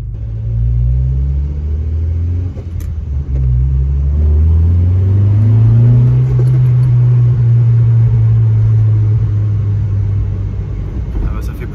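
A low, steady engine rumble from a Honda Civic EK4 with VTEC, holding a deep tone, rising slightly in pitch midway as if revved gently, continuous and fairly loud throughout.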